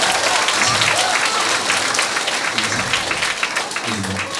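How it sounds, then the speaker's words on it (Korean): Loud, steady applause from a crowd at a community centre singing class in Jangyu 3-dong, Gimhae, South Korea, fills the whole clip, dense clapping without a break, with faint voices underneath. "박수가 발발발."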